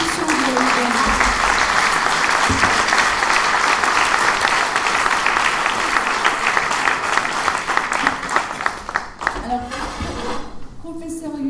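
Dense, sustained audience applause at a public talk, loud and steady for about nine seconds before thinning out, with some voices mixed in toward the end.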